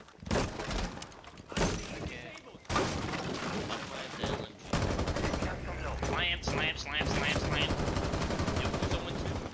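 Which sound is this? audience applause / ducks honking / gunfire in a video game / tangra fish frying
gunfire in a video game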